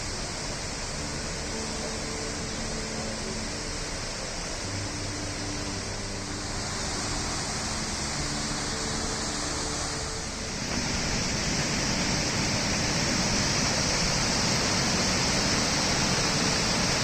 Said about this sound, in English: I had a divine experience listening to the divine sound of the POULANASS waterfalls.